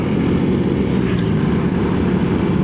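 Steady, dense roar of passing motorcycle and car engines outside, a continuous wash of traffic with no pauses, fairly loud throughout.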